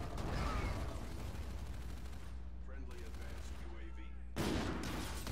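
Gunfire from a UDM sniper pistol in a team deathmatch shooter game, heard as busy shots and mechanical clatter throughout amid game noise, with a brief gap before a loud burst near the end.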